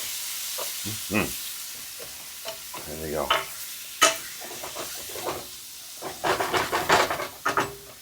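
Pineapple pork sizzles and crackles in a pan amid stirring clatter, with bursts of frying noise growing busier toward the end; a voice speaks briefly.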